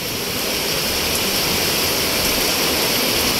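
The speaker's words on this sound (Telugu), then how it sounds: "ఒక నది మొత్తం పెద్ద కాలువ వెళ్తుంది చూడండి, అలా వస్తున్నాయి వాటర్ అయితే" Floodwater in Manikonda surging like a whole river down a large canal, heard as a loud, steady, broadband roar throughout with no talking.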